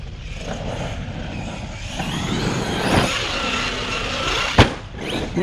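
A Traxxas Sledge RC monster truck drives with a whining electric motor that rises and falls in pitch through short bursts of acceleration, with a sharp impact near the end.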